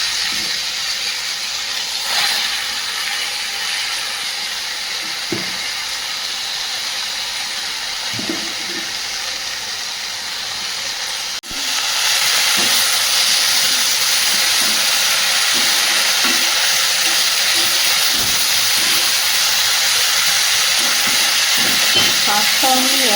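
Chopped young leafy greens hit a hot wok (kadai) of prawns and fried spices, raising a steady, close sizzling hiss that jumps sharply louder about halfway through and keeps crackling evenly.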